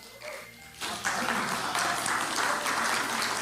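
A church congregation breaks into applause for a dancer, the clapping swelling up after a quiet moment and continuing steadily at moderate volume.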